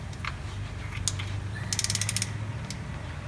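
Ratchet loosening spark plugs on a 1970 Ford LTD, a series of quiet, rapid clicking ratchet strokes and metallic creaks up close, with no talking.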